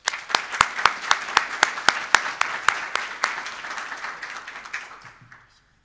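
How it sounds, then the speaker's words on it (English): Audience applause after a scientific talk on forage legumes, a crowd clapping steadily with sharp individual claps over a dense wash, fading out after about five seconds. "Another round of applause."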